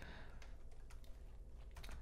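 Rapid typing on a computer keyboard while entering an NGINX server block configuration on Linux, with steady close clicks and a few louder key strikes, and no voices.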